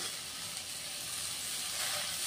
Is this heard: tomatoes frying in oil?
yes